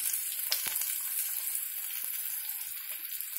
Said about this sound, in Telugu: ఇలా వేయించుకొని